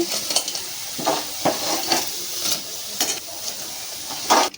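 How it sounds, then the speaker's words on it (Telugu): Onion pakoda frying in hot oil gives a steady sizzle and hiss, broken by the clinks and scrapes of a utensil stirring the pan, with no talking. "ఈ విధంగా గాలాలి, ఎర్రంగా గాలాలి."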